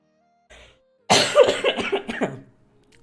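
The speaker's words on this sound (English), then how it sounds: "Hold on, I need to cough." A person coughs during a home cooking session: a brief faint sound first, then a loud close burst of several rough coughs tapering off over about a second and a half.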